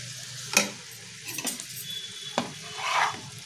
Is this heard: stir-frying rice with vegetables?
yes